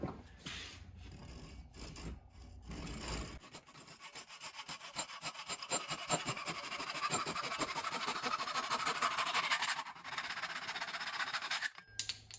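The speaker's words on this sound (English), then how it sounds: "So I'm gonna trim a little bit off the top here before we wedge it." Wood is trimmed from the top of an axe handle before wedging, giving a steady, close rasping scrape that runs continuously for about ten seconds and ends with a brief knock. No one speaks.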